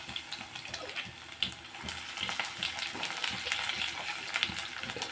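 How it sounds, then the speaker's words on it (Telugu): Tempering spices sizzling in hot oil, a continuous crackling fry with small pops throughout, fairly faint and close, no talking. "ఇదిగోండి ఆయిల్ ఎక్కింది. ఫస్ట్ పోపు వేసుకుందాం అన్నమాట."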